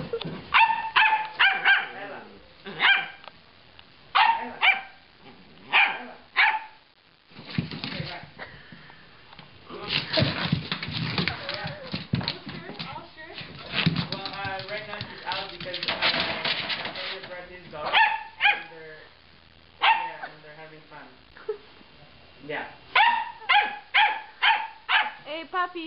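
A Bouvier dog barks in loud, repeated bursts, close up, with a dense stretch of rapid barking and scuffling in the middle and people talking around it.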